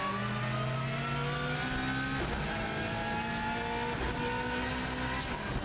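A Subaru Impreza rally car powers up a steep hill climb lap, its engine droning loud and steady with rising and falling revs as it shifts through gears, heard close from onboard.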